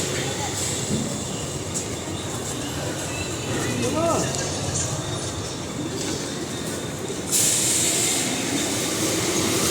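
Steady rumble of a moving Konkan Railway train heard from a general coach, with rattling wheels and a brief high squeal near the end, faint voices underneath.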